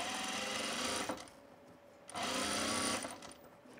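A sewing machine with an oversized needle stitches fabric for a tool belt, running in steady close bursts with a brief pause between them, a continuous whirring rattle of fast needle strokes.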